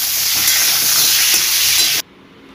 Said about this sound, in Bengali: সর্ষের তেল দিয়ে দিয়েছি, তেলটা গরম হয়ে গেছে। এবার পটলগুলো ভেজে নেব।